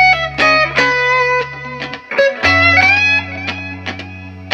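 An electric guitar on the rear pickup plays through an amp with reverb and delay, sounding sustained, tonal notes and chords in short phrases with a few brief gaps, loud and close, with the tails ringing out.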